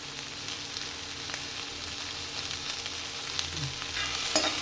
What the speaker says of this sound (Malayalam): നന്നായി വഴറ്റി കൊടുക്കാം